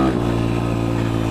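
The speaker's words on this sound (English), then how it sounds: "First gear, lock them up, give it some gas, start to release the clutch." A dirt bike engine held at high revs in first gear during a launch, a loud, steady, close droning buzz with a slight dip at the start, no talking.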